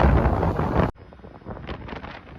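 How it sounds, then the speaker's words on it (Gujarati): Heavy storm wind over the Arabian Sea off Jafrabad, Gujarat, roars against the microphone, then cuts abruptly to a quieter, gusty rush of wind over open water. "કેવું ભયંકર તોફાન છે કે દરિયામાં છે"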